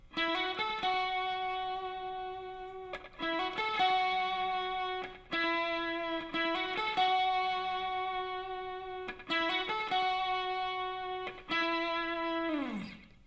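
Electric guitar with heavy distortion and delay plays a short repeated phrase from The National's "Day I Die," sustained notes ringing out between picked attacks, loud and unaccompanied.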